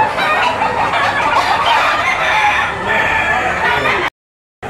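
Many roosters and chickens crow and cluck together at a busy poultry auction market in the Philippines, a loud dense chorus overlapping without pause before cutting off abruptly.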